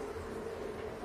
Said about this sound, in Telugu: అది సౌండ్, ట్రైన్ సౌండ్ అనమాట.